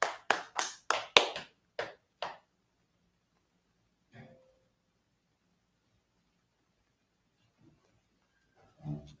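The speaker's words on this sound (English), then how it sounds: "Clap it up for the class." A class at an ISUPK gathering in Harlem, New York, gives about seven sharp hand claps in quick succession over two seconds, then near silence with one faint thump later.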